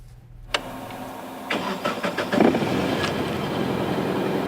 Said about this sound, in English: the powerful roar of a fine-tuned engine